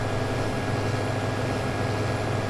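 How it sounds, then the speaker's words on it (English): A steady, dense low rumble with broad noise of a train rolling continuously over a bridge in Farming Simulator 15, at a moderate distance, unbroken for the whole stretch. "The train is just going across again over the bridge."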